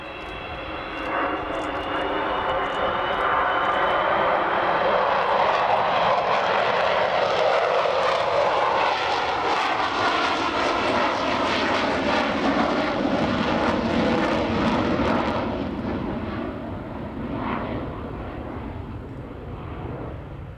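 An Avro Vulcan B2 bomber roars past low and slow with wheels down at the Royal International Air Tattoo, its loud broadband jet engine noise swelling, holding steady, then fading into the distance.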